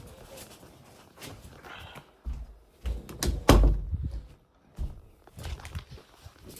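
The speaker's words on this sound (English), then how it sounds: "Guys, I just had to close my door." An indoor room door is shut, giving a few loud thumps and knocks with shuffling and handling sounds around them, close by and without speech.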